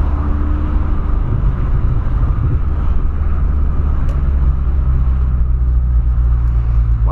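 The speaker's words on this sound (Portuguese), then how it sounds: "espero que vocês tenham curtido aí um pouco do escape" A VW Polo fitted with a 4-inch exhaust drives along, its low steady exhaust drone and engine rumble continuous and fairly loud from inside the car, with no talk.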